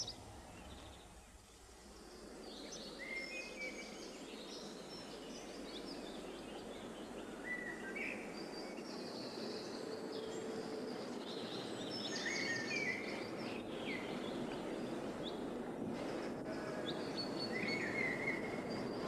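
Sparrows busy at a domed nest in St James's Park, London, give faint scattered chirps and tweets over a steady outdoor rumble of distant background noise.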